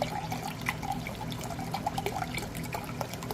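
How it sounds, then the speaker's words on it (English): Milk being poured over noodles in a pot while making stroganoff, a close, steady liquid pour with small splashes and drips and no talking. "I'm going to pour the milk for her, but in here."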